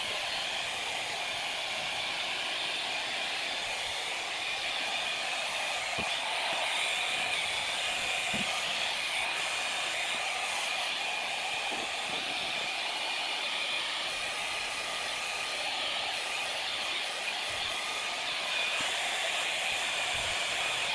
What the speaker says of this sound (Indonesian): Kita pakai hair dryer di sini.